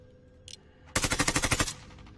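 Automatic weapon fire in the video game Warzone: a short burst of about a dozen rapid, loud shots, preceded by a brief click, with no talking.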